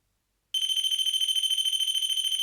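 A REM pod paranormal detector and a K2 meter sound their alarms together, a steady, loud electronic beeping with a fast regular pulse that starts abruptly and runs unbroken to the end.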